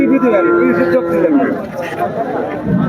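Dairy cows at a village cattle market, one drawn-out loud moo near the start followed by fainter lowing, with crowd chatter and talk underneath.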